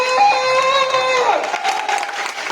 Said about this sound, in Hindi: जोरदार ताली बजा दो फ्री के लिए